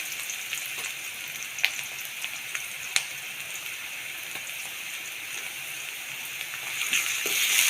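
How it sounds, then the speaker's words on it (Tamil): Sliced onions fry in a pan as ginger garlic paste goes in while chicken liver fry is being cooked, with a steady close sizzle and a few sharp spatters and clicks, the hiss swelling slightly at the end. "வெங்காயம் நல்லா வதங்கிருச்சு இப்போ வந்து இஞ்சி பூண்டு பேஸ்ட்டு சேர்த்துக்கலாம்"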